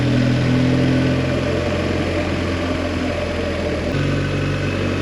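A BMW R1250 GS motorcycle engine runs steadily while riding on a road, a loud continuous drone with a low hum and a shift in pitch near the end, no voices.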